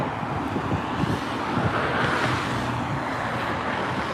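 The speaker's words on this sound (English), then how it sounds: "Hopefully you can't hear that wind." Constant wind buffeting the microphone while riding an e-bike, a broad rushing roar that swells slightly midway and never lets up.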